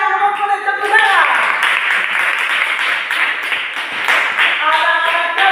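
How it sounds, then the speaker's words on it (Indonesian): A group of schoolchildren clapping together in class, a busy patter of applause filling the room, with a voice briefly speaking over it. "Luar biasa, kelompok C, tepuk tangan"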